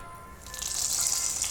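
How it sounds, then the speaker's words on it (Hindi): Milk and semolina poured into a hot pan of caramelised sugar for makhandi halwa, a soft rising hiss and gush of liquid building after a quiet start and continuing steadily. "बस अब जस्ट के जस्ट हम दूध और सूजी इसमें डाल देते हैं"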